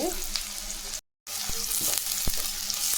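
Finely chopped large onions frying in oil for kurma, a continuous loud crackling sizzle close by, with a brief gap and occasional stirring knocks against the pan.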